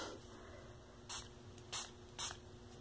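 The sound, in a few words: spray bottle spraying water on bead toy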